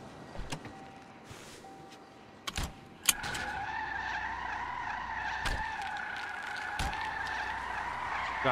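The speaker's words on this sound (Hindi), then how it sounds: "गाड़ी का आवाज आ रहा है?" A car in the video game GTA V drives with a steady engine drone and tyres skidding, joined by sharp clicks and thuds of in-game impacts, with no talking.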